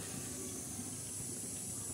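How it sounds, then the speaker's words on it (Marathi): Spicy black masala paste simmering in a pot over a gas flame, a steady soft hiss and faint bubbling, continuous and low with no voices. "तर हा मसाला गदा गदा शिजतोय."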